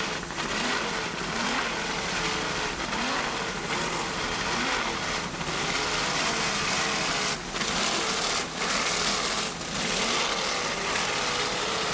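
Instigator, a 32-foot racing powerboat at the 2001 Key West World Championships, throttling through bumpy water: a continuous engine drone whose pitch and pressure shift with small surges and dips.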